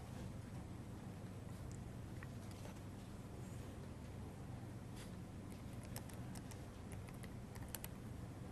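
Typing on a computer keyboard in quiet surroundings, a scattered run of soft, close key clicks that gets busier toward the end, heard alone over a low steady background hum.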